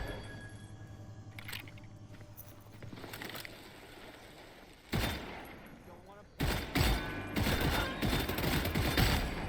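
Gunfire in the video game Redfall: scattered shots and sharp bursts that grow louder and denser toward the end, with mechanical clatter between volleys and someone talking over the action.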